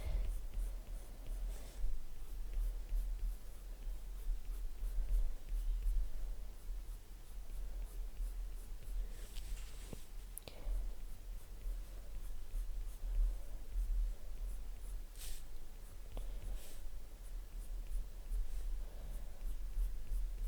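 Polychromos coloured pencil shading on paper, a steady scratchy scribbling that runs throughout with short rhythmic strokes, close and fairly quiet, with no talking.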